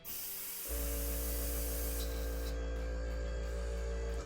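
A steady mechanical hum of a small Skyline beginner airbrush compressor starts up after a brief quiet moment, then runs continuously with a faint hiss above it.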